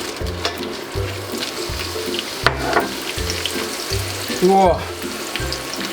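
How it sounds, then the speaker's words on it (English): Chiles frying in a pan for mole, a continuous crackling sizzle with rhythmic scraping and a brief splash of liquid, as a voice briefly exclaims. "Gonna fry up our chiles"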